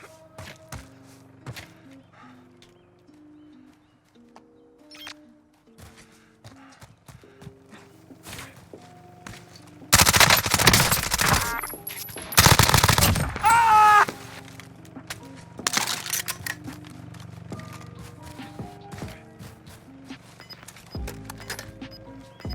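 Loud bursts of gunfire in the Warzone battle royale, a sustained volley of shots for about three seconds, a brief pause, then a second dense burst, with scattered quieter pops and footsteps before and after.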